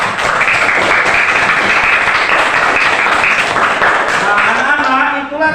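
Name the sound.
applause for group 1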